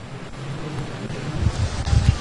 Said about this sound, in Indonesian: Fenomena alam angin puting beliung terekam di Laut Karimun, Kepulauan Riau.